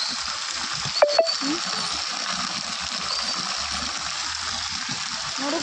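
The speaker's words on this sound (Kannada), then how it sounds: "ನೋಡಿ ಎಷ್ಟು ಜೋರಾಗಿ ಬೀಳ್ತಾ ಇದೆ ಮಳೆ" Heavy rain pours down near a shop, producing a dense, steady rush of falling water with a couple of sharp knocks early on.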